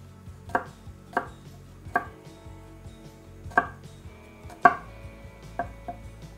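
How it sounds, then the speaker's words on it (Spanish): A knife chops vegetables and garlic finely on a board in a home kitchen. About seven crisp, close knocks come at uneven intervals, with quiet gaps between them and no talking. "Así vamos cortando todo"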